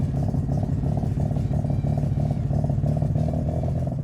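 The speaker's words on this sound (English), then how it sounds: "Now, the sound of a rotary engine, it is unmistakable." A rotary engine at a Rotor Fest event at a raceway idles nearby with a loud, steady, choppy burble that pulses in a quick, regular rhythm, with no voices.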